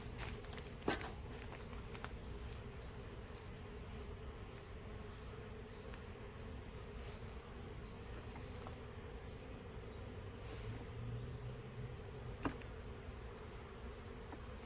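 Honey bees swarm around a backyard hive during an inspection, a soft continuous buzz of many insects with a couple of faint clicks and no voices.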